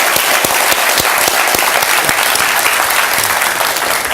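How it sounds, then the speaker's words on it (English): Dense, sustained audience applause fills the room as the President of Nigeria, Muhammadu Buhari, departs, with steady clapping throughout and no speech. "Please join me in one last round of applause as the President"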